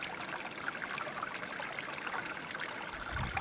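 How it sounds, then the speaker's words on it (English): A small waterfall tumbles over rocks and caught debris in a creek in the Australian countryside, giving a steady, close rush and trickle of water that runs without a break. "Another little mini waterfall."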